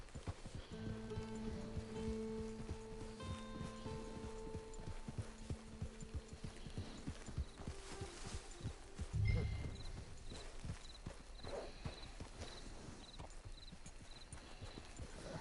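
Horse hooves clip-clopping at a walking pace in the Red Dead Online video game, a steady rhythmic series of close, quiet hoof strikes with game music tones and ambient sounds behind, a brief louder thump midway.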